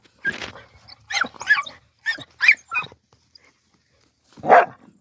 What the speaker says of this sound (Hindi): तो कुत्ते इसे बाद से कुछ देर ऐसे करते रहेंगे फिर छोड़ देंगे